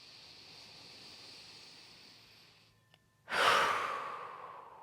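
Slow, deep breathing during a grounding yoga flow: a long soft exhale fades out, a brief pause follows, then a strong, close inhale swells in and trails off gradually.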